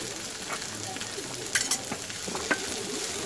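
Okra cooking in a pan over low gas, a soft steady sizzle close by with a few light stirring scrapes and clinks.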